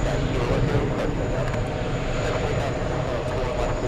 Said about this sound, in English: It was supposed to take off at 4 p.m. taking off several hours late.